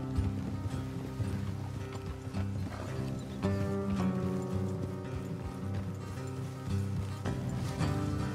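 Horse hooves clip-clop steadily at a trot in the video game Red Dead Redemption 2, over a constant bed of ambient music and background sound, with no talking.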